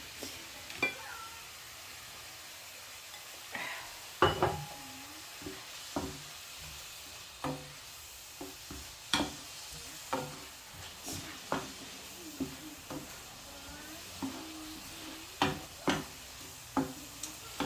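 Raw prawns and vegetables stir fry in a pan with a constant soft sizzle, broken by regular sharp taps and scrapes of a spatula against the pan, close by and with no voices.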